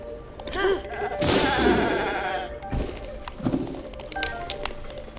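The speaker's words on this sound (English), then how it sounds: "Goat." A goat bleats in Breath of the Wild's Lost Woods, several wavering calls rising over a noisy in-game backdrop with a loud burst near the middle, heard fairly close.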